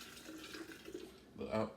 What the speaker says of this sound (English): And I'll just pour it right in.